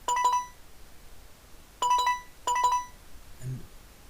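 Warning alert from a FARO Focus laser scanner: short bursts of bright, buzzy electronic beeps repeat three times in an irregular rhythm, clear and close with nothing else around them.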